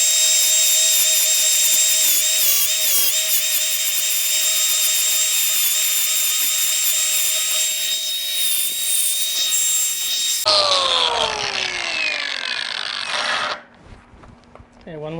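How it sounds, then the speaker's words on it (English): A grinding wheel blends silicon bronze brazed welds on a metal garden bench, a loud steady high whine that changes pitch midway as it bites, then drops off toward the end. "I'll blend those welds out just a little bit with a grinding wheel"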